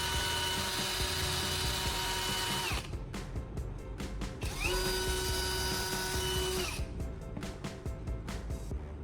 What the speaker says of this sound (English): take your drill and attach the screw with the CD sander to the chuck